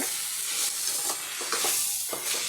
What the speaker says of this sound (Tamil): பட்டாணி துவரை காலிஃப்ளவர் சேர்த்து நல்லா வதக்கி போடுங்க